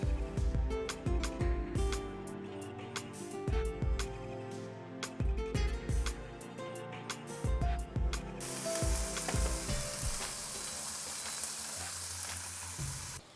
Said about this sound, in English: Then we are going to fry our decoration prawns.